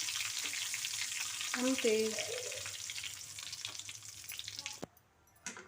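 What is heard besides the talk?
curry leaves and turmeric sizzling in hot oil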